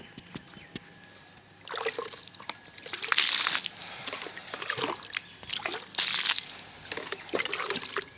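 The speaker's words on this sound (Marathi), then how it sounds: "आपण बाहेर पाणी मारून घेऊ" Bursts of water splashing and sloshing onto a courtyard outdoors, several loud throws separated by quieter pauses.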